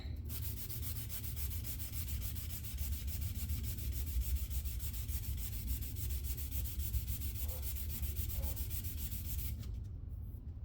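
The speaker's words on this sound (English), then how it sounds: "I'm actually going to shave down the circuit board a little bit." Continuous abrasive shaving and sanding of a circuit board edge for an LED light display, a steady close rasping that runs unbroken for several seconds before stopping abruptly.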